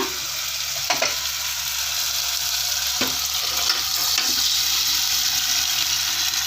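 Country chicken cooking in a hot pan with curry leaves and water gives a continuous loud sizzle, with a few sharp clinks and scrapes of stirring scattered through it and no talking.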